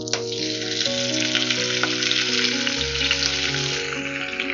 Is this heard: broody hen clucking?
no